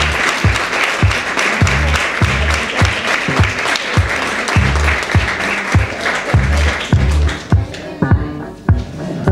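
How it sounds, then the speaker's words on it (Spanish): An audience at a tribute event for the Spanish Cancer Association in Marbella applauds loudly, with a steady rhythmic beat of clapping running through the crowd until it thins at the end. "vamos a dar un aplauso"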